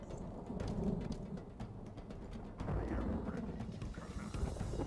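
Rain falls during a siege battle in Total War: Divide and Conquer, a steady patter of drops with low rumbling beneath, broken by sharp thuds and impacts.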